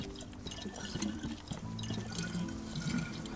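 A water bottle is refilled in the video game DayZ on the Livonia map, with a continuous, fairly loud pouring and splashing of water.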